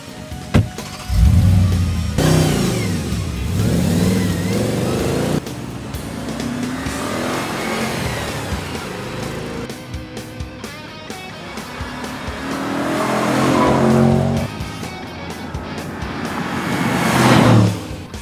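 An Audi RS4 is driven hard, the engine revving and surging through several loud pulls with gear changes between them, heard from nearby with no voices.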